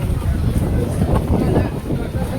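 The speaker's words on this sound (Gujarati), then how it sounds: "અને હવે થોડાક જ પગથિયા બાકી હતા અને ઠંડો પવન આવતો હતો મસ્ત." Cool wind blowing across the steps leading up to a hilltop temple rumbles and buffets the microphone in a steady, loud, low gust throughout.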